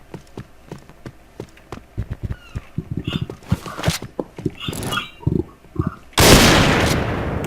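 Rapid gunshots in a shooter video game, a series of sharp cracks in quick succession, then a loud sustained blast or explosion toward the end, close and prominent.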